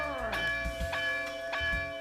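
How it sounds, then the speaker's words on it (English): Bells ring in a Spider-Man vs Kingpin boss battle on the Sega CD game, clear metallic tones with a few struck accents sustaining across a couple of seconds. "Making contact with both bells, as long as they're both ringing, ends the battle."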